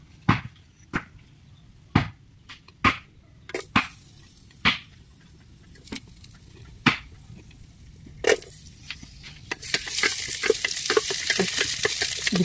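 Mung bean dish ingredients sautéed in a pan: a series of sharp utensil knocks and stirring scrapes against the pan, followed by a rising, steady sizzle as more ingredients hit the hot oil.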